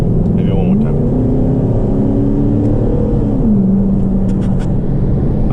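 A 2012 Chevrolet Caprice PPV engine rumbles and rises in pitch with each paddle-shift downshift, a few distinct revs over a steady drone, heard from inside the car with a voice talking over it.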